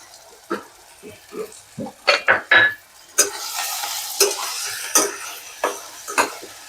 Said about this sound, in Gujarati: હવે આમાં નાખીશું આપણે જે મેઇન છે તુવેર અને મૂઠિયા